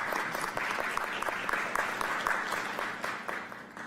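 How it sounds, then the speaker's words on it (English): A council meeting audience claps in a brief, steady round of applause, moderately loud and fading slightly toward the end, with no talking over it. "And you can clap if you like."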